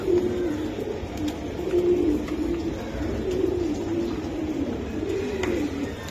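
Giribaj racing pigeons, birds flown in 75 km races, coo steadily and close by in soft, rolling, overlapping calls that carry on without a break.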